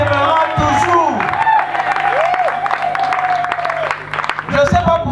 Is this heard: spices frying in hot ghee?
no